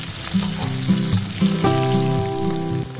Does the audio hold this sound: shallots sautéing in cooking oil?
yes